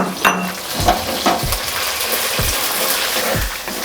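Ginger garlic paste frying with onions in a pan, steady close sizzle with repeated scraping stirs of a utensil at a regular pace, no talking.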